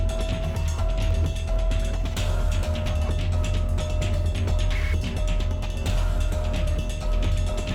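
Mechanical ratcheting and gear clicks from unscrewing a wheel in the video game Zero Time Dilemma, a steady run of small clicks and creaks over a constant low game hum, no talk.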